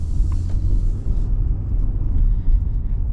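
A 2026 Ford F-150 engine runs as heard from inside the cab, a steady low rumble and road drone, fairly loud and continuous with no talking.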